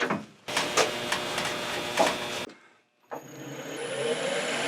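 A wood lathe spins a Christmas ornament blank held in a chuck with the tailstock brought up, giving a close, steady whirring drone that stops briefly and then starts up again.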